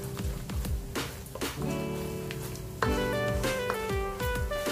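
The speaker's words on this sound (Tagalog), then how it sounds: "Haluin lang natin yan." Butter garlic seafood seasoned with salt and pepper is stirred in a hot pan, a steady loud sizzle with spoon scrapes and clinks running through it, close up and continuous.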